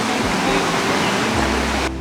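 A mountain river, a built river channel, flows with a loud, steady rushing roar that fills the whole stretch up close, with low rumbling underneath.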